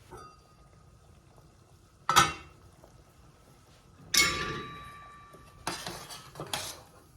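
A metal lid clanks onto a pot of simmering menudo in three separate sharp, ringing hits, each fading with a short metallic resonance, close and otherwise quiet.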